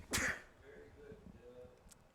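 A commentator at a college baseball championship broadcast lets out one sharp sneeze, close and abrupt, followed by quiet shuffling and faint background noise.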